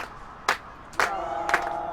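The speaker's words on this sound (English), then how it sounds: "Crowd coming alive again, trying to will on its side in the second half. Braves Brigade singing away." A soccer crowd at a women's college match, fans cheering and singing in the stands as a steady distant roar with three short louder surges.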